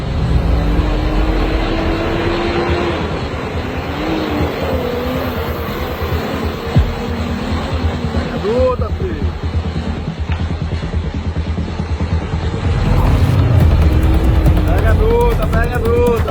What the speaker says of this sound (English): this truck decides to take the risk and power through